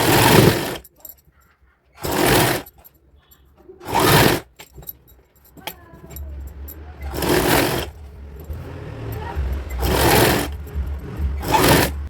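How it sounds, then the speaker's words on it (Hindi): A sewing machine stitches a sharara outfit for a four- or five-year-old child in bursts of rapid whirring, each run lasting about a second with short pauses between, while a low hum and handling noises fill the gaps. "इसको हम सिलाई लगा देंगे"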